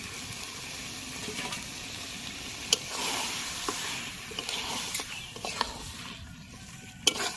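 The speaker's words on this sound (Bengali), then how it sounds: "এইভাবে নাড়াচাড়া করবো সব সময় না হলে লেগে যাবে" Chicken curry cooked without oil is stirred in a pan, giving soft wet scraping and a light sizzle with occasional sharp utensil knocks, faint and close.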